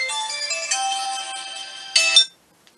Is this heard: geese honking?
no